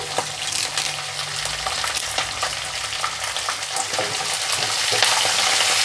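Chopped green chilies and curry leaves sizzling in hot oil while tempering for pulihora, a dense, steady crackling hiss that fills the whole clip, close and fairly loud, with no voices.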